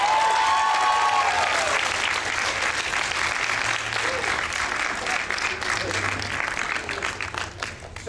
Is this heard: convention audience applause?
yes